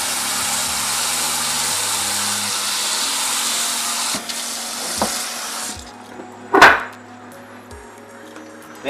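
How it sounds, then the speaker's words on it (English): Tap water pours steadily into a kitchen sink while shirataki noodles are rinsed, a continuous rushing hiss that cuts off near the end, followed by a few clanks and thumps. "I'm going to try rinsing them one more time"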